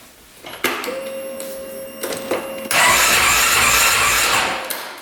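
ATV engine being cranked over while checking for coolant pushed out under compression, with a few clicks and short whirs and then a sustained, louder, rough churning crank that runs several seconds before easing off.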